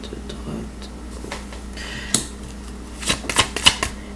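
Tarot cards are handled and laid down during a reading, giving soft shuffling rustles and sharp slapping snaps as cards hit the table, clustering into a quick run of flicks near the end.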